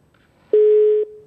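A telephone line tone from a call placed into a live call-in show: a single steady, loud electronic tone that starts abruptly partway through, with quiet background before it and no talk.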